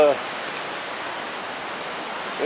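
Steady rain falls during Hurricane Ophelia at Cape Lookout, with roads under standing water, a continuous soft hiss with faint voice traces at the edges.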